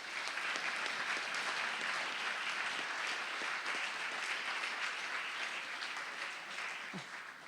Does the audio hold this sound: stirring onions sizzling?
no